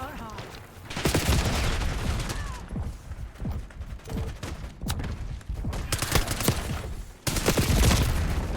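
Chaotic gunfire in Call of Duty Black Ops 6 on the Nuketown map, with dense bursts of rapid shots and mechanical clatter, loud repeated volleys separated by short lulls.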